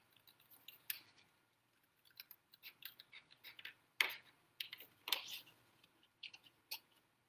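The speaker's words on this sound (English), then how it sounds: "Super easy to cut out, but there's no die for it, so just go along the edges and just fussy cut around it." Scissors snip around a stamped card by hand, close and quiet, with short irregular cuts and small pauses as the blades follow the edges.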